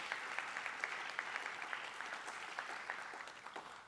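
Steady applause from an audience at a high school theatre awards night, dense and continuous with scattered sharper claps throughout, moderately distant.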